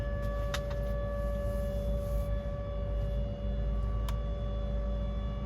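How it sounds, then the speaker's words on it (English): A steady wailing siren drones continuously in the background, held tones over a low rumbling hum, with a couple of faint clicks. "Some siren going off in the background."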